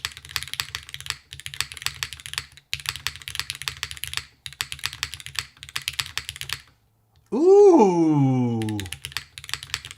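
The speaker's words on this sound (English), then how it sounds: "Hold on, I'll stop talking. I'll type a bit." Laranges switches on an aluminum plate with grommets clatter steadily on a custom mechanical keyboard called the Manta, with bursts of clacky typing separated by short pauses, then a voice lets out a long exclamation before the typing resumes.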